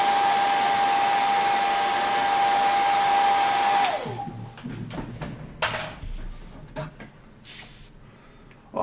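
A hairdryer blows in one steady, loud, close whoosh with a constant whine for about four seconds, then cuts off, leaving a low rumble and scattered soft clicks and rustles.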